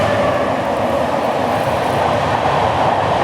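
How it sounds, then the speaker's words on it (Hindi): A train on the Mumbai–Ahmedabad double decker express route rushes past, a loud, steady roar of wheels and rushing air that holds at a constant level throughout, with no voices. "कौन सा ट्रेन था ये?"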